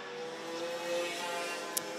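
DD2 racing kart running with broken exhaust baffles during a pre-final race at Kerpen, a faint, distant, sustained engine drone with a brief sharp click near the end.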